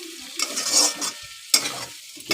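Poppy seed paste is stirred into a pan of potatoes and pointed gourd with water, giving soft scraping stirs and a faint sizzle over a couple of seconds.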